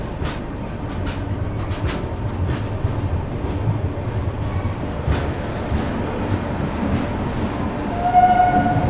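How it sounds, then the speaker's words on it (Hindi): A Gitanjali Superfast Express (Howrah to Mumbai) pulls into Bhusawal Junction in India, running four hours late. Its wagons make a steady, close rolling rumble with scattered clanks, and a brief tonal whine rises near the end. No one speaks. "ट्रेन अपनी अराइव कर रही है भुसावल रेलवे स्टेशन पे"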